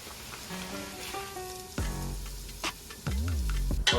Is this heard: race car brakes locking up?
no